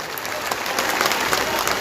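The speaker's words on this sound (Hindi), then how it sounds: "जोरदार तालियों से स्वागत करें" A crowd at a Bhagavad katha gathering in Mohanpur gives a local MLA a hearty round of applause, dense and continuous clapping that swells a little toward the end.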